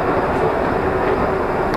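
Budapest metro train rumbles steadily and loudly up close, a continuous dense roar of rolling wheels and motor noise with no talk.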